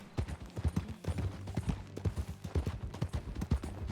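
Horse hooves clip-clopping in a steady rhythmic gait while riding in Red Dead Redemption 2, moderately close with an even beat throughout and faint background sound.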